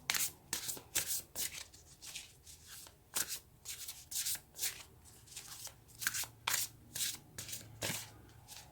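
Tarot cards shuffled and handled close by in a steady series of soft riffling bursts, a quiet rhythmic papery flutter with no talking.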